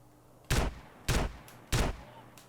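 Three loud, evenly spaced gunshots ring out in GTA San Andreas, each a sharp crack with a short decaying tail, separated by brief quiet gaps.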